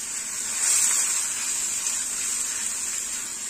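One cup of water pours steadily into a pot while patvadi, a Marathi gram-flour snack, is being prepared, giving a continuous soft, hissy gush close by with no speech over it.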